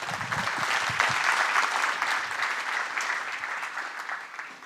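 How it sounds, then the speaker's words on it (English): An audience claps steadily at a technical conference on containers, a dense, moderately close wash of applause that holds for several seconds and slowly fades. "Give him a round of applause."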